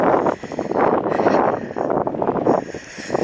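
Gusty wind buffeting on an open riverbank of the River Parrett near Pawlett during a walk, a steady broad rushing roar that swells and dips, close to the microphone and alone without talk.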